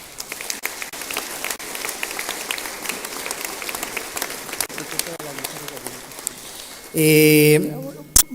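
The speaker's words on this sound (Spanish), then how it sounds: "Para todas ellas y ellos un fuerte aplauso, por favor" Audience applause at a public report event in Guanajuato: a crackling, rain-like patter of many hands clapping at moderate level, ending with a brief loud tonal burst and a voice near the close.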